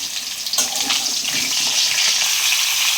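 Mango pieces added one at a time to hot oil in a pan for a sour mango dish, giving a steady close sizzle with a sharper burst of spitting early on, no talk over it.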